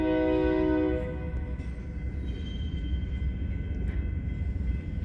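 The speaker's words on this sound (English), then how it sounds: "here's our northbound on the Sioux City sub" A northbound freight train on the Sioux City sub rumbles past with a low, continuous roll. A loud horn sounds at the start and fades within a second, leaving the steady rail noise.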